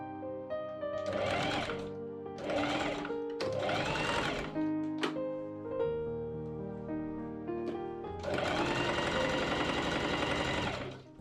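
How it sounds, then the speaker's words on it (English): A sewing machine stitches a cotton trouser seam for Regency-style pantaloons, running in several short rapid whirring bursts with pauses between, then a longer steady run near the end. "I machine sew that seam."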